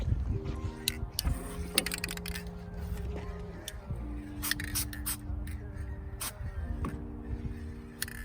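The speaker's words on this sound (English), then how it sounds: "I'm going to use some penetrating oil, spray that on the bolt" Short bursts of hissing aerosol spray as penetrating oil is squirted onto a bolt on a Mk2 Ford Focus ST225, several quick squirts close by, mixed with metallic clicks and a faint tonal hum in the background.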